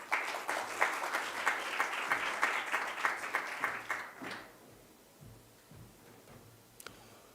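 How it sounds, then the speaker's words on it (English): An audience at a business launch gives a warm round of applause to welcome a speaker, clapping in a fairly even rhythm that carries on for about four seconds before dying away into quiet with a faint sound or two. "Let's give him a warm round of applause"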